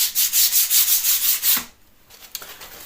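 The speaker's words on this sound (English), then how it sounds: "Final sand." Rhythmic back-and-forth rasping of sandpaper over a plasterboard wall patch during the final sand, about eight close strokes before it stops, leaving faint handling noise.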